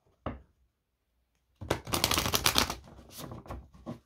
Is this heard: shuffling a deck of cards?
yes